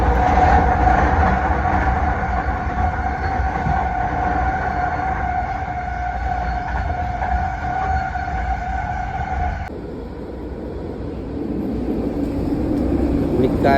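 A train rolls steadily along rails in Canada, a loud continuous rumble with clickety-clack and a steady tonal hum, shifting in character near the end as the passing changes.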